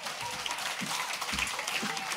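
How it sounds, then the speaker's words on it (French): Church congregation applauding during a Sunday service, a steady wash of clapping at moderate distance with faint voices mixed in. "Et applaudis le Seigneur déjà."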